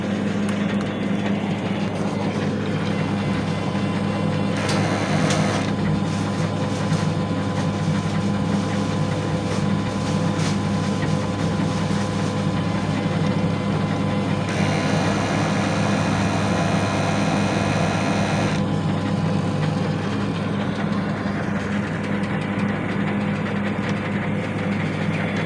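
A DTF printer runs a print head cleaning cycle, giving a steady loud mechanical hum and whir with shifting motor tones and bursts of higher-pitched whine that go on for the whole stretch.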